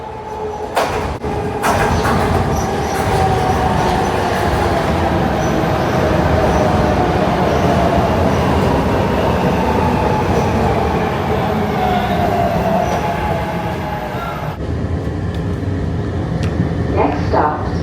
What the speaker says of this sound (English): At the Girard L stop, getting ready to hop on the L.